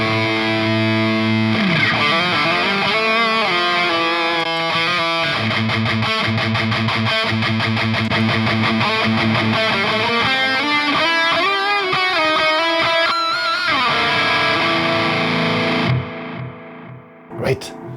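Heavily distorted metal guitar through an ENGL e570 Special Edition tube preamp with treble, volume and gain turned up, playing dense chugging riffs and sustained chords for about sixteen seconds before cutting off, loud and close.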